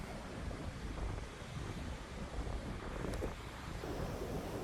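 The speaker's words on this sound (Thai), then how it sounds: "แต่ลมดีฮะตรงนี้ลมดีเลยครับ" Strong, steady wind buffets the microphone on an open beach beside a cave area, a continuous broadband roar with faint surf underneath and no talking.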